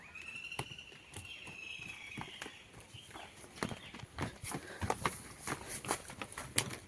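A bull's hooves clop on the ground in an irregular walking rhythm, fairly close, with scattered rustling and a faint whistle-like tone early on.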